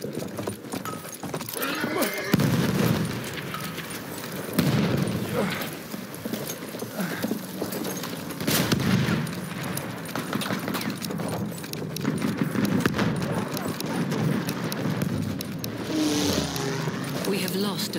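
Rhythmic horse hoof clip-clop thunders amid a noisy, busy Battlefield 1 Conquest soundscape with engine rumble and clatter, voices occasionally calling out over it.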